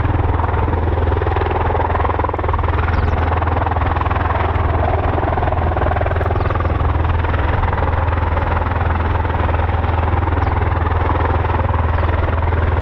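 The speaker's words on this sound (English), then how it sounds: "The US Navy also operate the CV-22 Osprey." A CV-22 Osprey tiltrotor flying at an air show, a loud steady low drone with a throbbing rotor hum and no break for the whole stretch.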